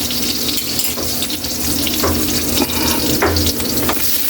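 Marinated chicken and pork frying in a pan for adobo, a steady loud hiss and sizzle running throughout with small clatters and shifts of the food.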